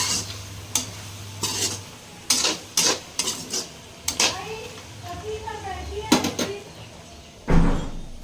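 A drumstick, bari and potato curry with tomatoes is stirred in a pot, giving scattered clinks and scrapes of a spoon against metal under frequent talking, with a voice also present.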